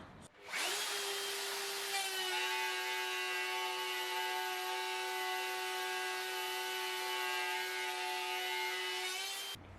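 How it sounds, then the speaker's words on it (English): A router spins up with a steady high whine and cuts into wood on a table setup, the tone holding even and loud for several seconds before winding down at the end, with no voices. "I've got the router the wrong way around now, but it should work, just to test if this will cut exactly on that mark"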